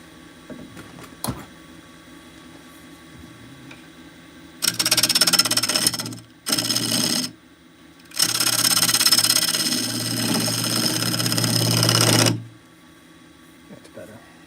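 A wood lathe cuts a tenon on a turning of Tree of Heaven wood in two loud bursts of harsh scraping and whirring, with a short pause between them, and quiet room tone before and after.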